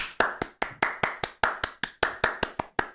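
One person clapping hands at an ordinary steady pace, about a dozen sharp claps in three seconds, close and crisp with no other sounds.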